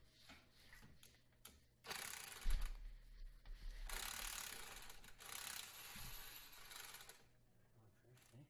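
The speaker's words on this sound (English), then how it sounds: "we're cheating by using air tools and that." Air tools tightening the suspension bolts on a 2012–2016 Dodge Dart during a CV joint replacement, with loud sustained whirring bursts of impact-driver rattle separated by quieter shop pauses.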